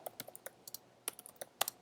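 Keys clack on a computer keyboard as a git config command is typed, a quick irregular run of close, light taps with no talking.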